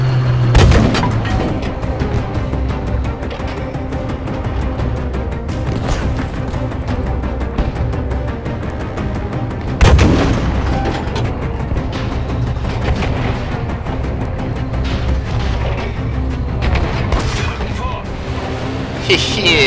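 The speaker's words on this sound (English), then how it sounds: "Oh yeah, boy, we're in a tank now." Tank combat in the video game Battlefield V, loud booming cannon shots and rumbling battle noise throughout, with one heavy blast midway, under occasional excited player talk.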